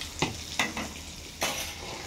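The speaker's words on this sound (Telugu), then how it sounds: "ఇక్కడ పప్పు మసులుతుంది." Dal with mixed vegetables simmers in a pot, a soft steady bubbling broken by a few sharp spoon scrapes and clinks against the vessel.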